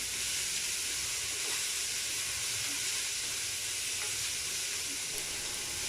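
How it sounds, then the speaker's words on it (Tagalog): Broccoli goes into a pan of beef frying with garlic, setting off a steady, loud, broadband sizzle and hiss that holds for the whole stretch, with no voices. "Tapos lagay natin ang broccoli natin."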